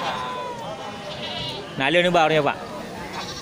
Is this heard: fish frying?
no